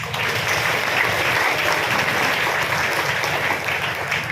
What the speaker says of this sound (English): Let us give them a warm applause.